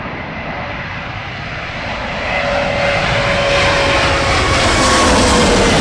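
An American Airlines airliner lands in a stormy crosswind, its engines a broad, loud roar with a faint whine that swells as the jet passes close by, wind buffeting throughout.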